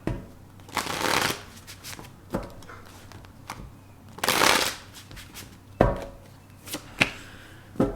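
Tarot cards are shuffled close up during a Gemini love reading: several brisk riffling bursts separated by quieter gaps, ending in sharp taps and snaps as the deck is squared, with no talking.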